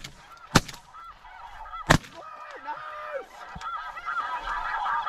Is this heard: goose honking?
yes